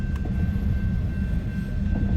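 A long freight train with boxcars and auto racks rolls past nearby, a steady low rumble of wheels and cars continuing without break, no horn, and no talk.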